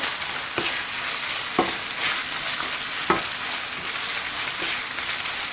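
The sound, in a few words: stirring spiced mixture in frying pan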